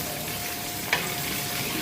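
Ingredients for Spanish chicken and rice fry in a pan, an even, close sizzle throughout with a single soft clack near the middle.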